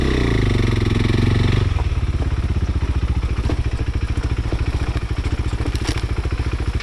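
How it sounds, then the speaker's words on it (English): A KTM 390 Adventure motorcycle revs hard at first, then settles into a steady, close engine drone with rapid rhythmic pulsing as it rides along an off-road trail, loud and continuous with no voices. "we made it out to the trails finally with the 390 Adventure back in our hands"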